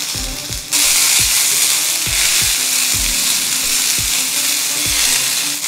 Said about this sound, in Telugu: ఫ్లాక్స్ సీడ్స్ చిటపట్లాడే వరకు వేయించుకోవాలి